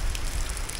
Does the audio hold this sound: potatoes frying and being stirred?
no